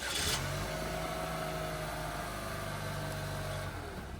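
A 2024 Chevrolet Equinox engine, started remotely by key fob, settles into a quiet steady idle hum after a brief burst at the start.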